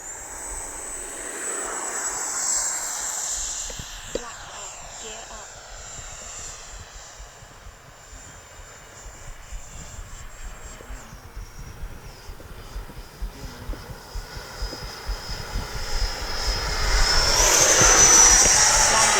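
An FMS F-86 Sabre 80mm RC electric ducted-fan jet whines at a distance and then builds to a loud, rising rush as it takes off downwind, with outdoor wind noise throughout.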